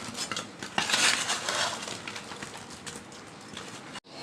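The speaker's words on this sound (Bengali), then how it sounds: "চামচ দিয়ে একটু নাড়াচাড়া দিয়ে দিচ্ছি উপরেরগুলো নিচে নিচেরগুলো উপরে" A spoon stirs sweet potato pitha in a pot of sugar syrup, giving steady scraping and clinking against the pot that peaks early and then settles into softer, continuous stirring.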